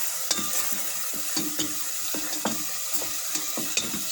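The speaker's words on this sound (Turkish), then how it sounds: "Arkadaşlar biraz da domatesinden beraber kavurdum" Chopped tomatoes sautéing in a pan give a steady sizzle, with a spoon or spatula scraping and tapping against the pan at irregular moments, close by.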